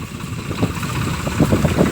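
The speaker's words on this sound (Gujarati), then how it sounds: "હા ત્રીજું ટ્રેક્ટર છે ભાઈ આ તો છે" A tractor engine runs on a farm field with a close, steady mid-pitched chugging that pulses irregularly and holds at a constant level throughout.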